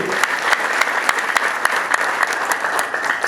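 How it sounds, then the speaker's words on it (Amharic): A church congregation breaks into steady applause for a guitar teacher and in praise of the Lord, a dense, even wash of many hands clapping close by for the whole stretch, with a few sharper claps popping out. "ለእሱ ክብር ደግሞ ለጌታ አጨብጭቡ"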